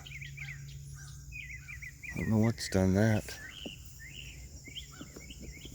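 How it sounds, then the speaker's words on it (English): Small birds chirp and trill repeatedly in a garden outdoors, fairly faint, while someone speaks briefly partway through. "Birds are starting to sound better again."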